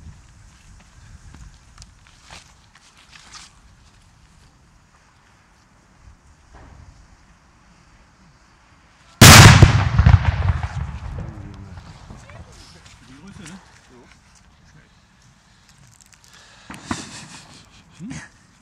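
A New Year's Eve firework blast goes off outdoors during a wagon tour, one sudden loud bang that crackles and fades over several seconds, with scattered footsteps, quiet voices and a couple of fainter pops around it.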